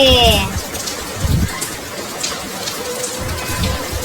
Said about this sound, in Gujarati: આજે વરસાદ પડ્યો છે